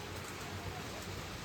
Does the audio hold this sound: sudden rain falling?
yes